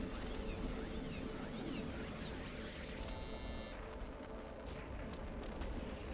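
Missile hits explode against a spaceship in the EVE Online video game, a dense, loud, continuous rumble of blasts and crackling debris with no pause.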